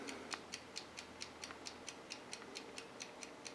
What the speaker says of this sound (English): You hear that ticking noise? This is the activity timer.